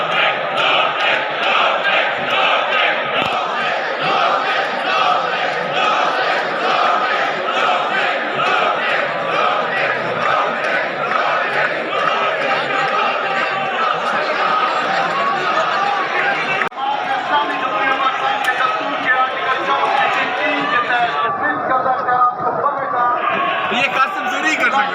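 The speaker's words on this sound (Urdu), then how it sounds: "حکومتی اراکین جو ہے وہ اس کے بعد فوراً بعد اسپیکر ڈائس کے سامنے اپوزیشن کی طرف جو ہے انہوں نے رخ کر لیا اور انہوں نے نعرے لگائے" Government lawmakers in parliament chant slogans in front of the speaker's dais toward the opposition, a loud, dense crowd of voices shouting in rhythm with overlapping talk and babble throughout.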